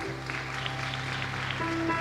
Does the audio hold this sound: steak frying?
no